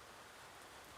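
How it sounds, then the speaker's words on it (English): Rain falling during a cold, wet week, a dense, steady hiss that stays even and close throughout. "It's been raining all week here."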